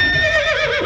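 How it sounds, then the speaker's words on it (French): A single horse neighs close by, a short, shrill whinny that wavers and drops in pitch. "Oui, j'entends des chevaux là."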